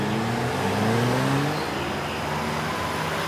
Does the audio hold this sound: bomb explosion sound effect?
no